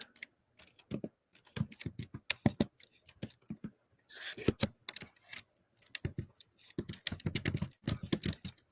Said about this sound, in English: I'm going to type in retirement